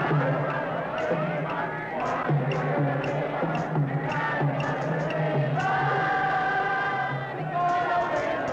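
Vociferous, flag-waving crowd of Cosmos soccer fans at a packed North American Soccer League championship match, a dense continuous roar with rising surges of chanting and shouts, loud and close throughout.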